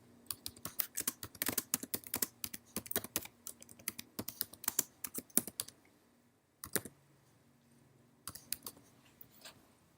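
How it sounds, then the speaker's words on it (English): A comment is typed on a computer keyboard in bursts of quick, close clicking keystrokes, a pause, then a few more short runs of taps. "identify the area and type in a comment here"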